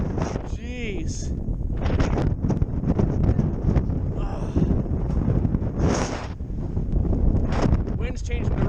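Heavy wind buffeting a fishing boat on open water, a constant loud roar and rumble of gusts across the microphone, with a voice briefly heard over it.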